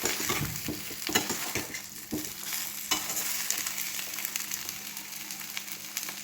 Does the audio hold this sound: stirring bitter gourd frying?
yes